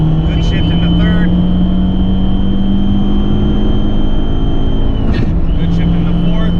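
An Abarth car launches and pulls hard through its gears, a loud steady engine drone from inside the cabin with a brief dip at a shift, while someone talks over it.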